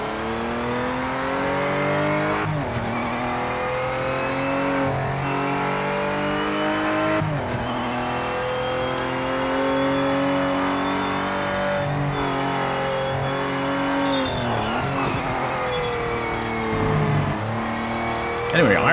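Race car engine in the video game Project Motor Racing on PS5, a loud, steady, high-pitched drone that rises and falls as the car revs and shifts while warming its tyres, with faint tyre squeal and no pauses.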